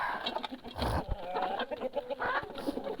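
Farmyard chickens clucking and squawking close by at feeding time, several birds calling in short irregular bursts, with no clear speech.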